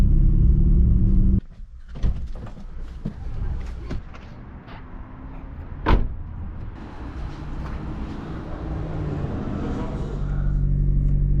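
A Honda Civic EG track car is driven hard, its engine rumbling and revving with rising and falling surges, a sharp bang near the middle, and a steady roar building toward the end; voices are heard intermittently.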